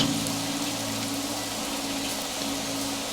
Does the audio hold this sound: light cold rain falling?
yes